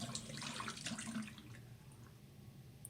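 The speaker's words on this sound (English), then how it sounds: "I turn off the water as soon as my glass is full" Tap water runs steadily into a glass or sink, a close, continuous broadband rush that eases slightly toward the end.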